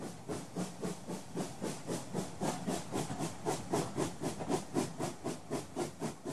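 A steam train chugs along the track in a fast, even rhythm of soft hissing puffs, steady and moderately faint, with no other sounds.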